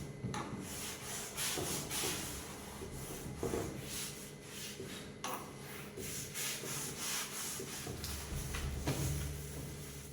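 A household switch board being wiped with Colin glass cleaner, continuous close rubbing and scrubbing strokes with small knocks, no talk.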